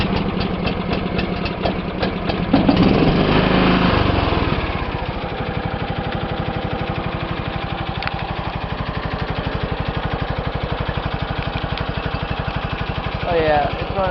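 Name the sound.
engine cold starting and running without choke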